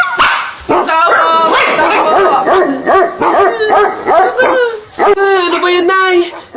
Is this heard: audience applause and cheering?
no